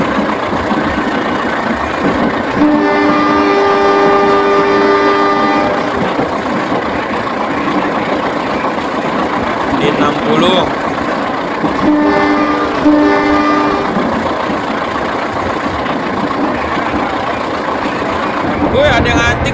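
A heavy freight locomotive in the Trainz Simulator game drones with a loud, labouring engine while its horn sounds in two long sustained blasts, someone talking over the rumble.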